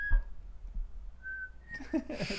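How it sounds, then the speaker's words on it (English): A few short, thin whistled notes with pauses between them, fairly quiet, over faint background noise. "Your whistling is getting better too."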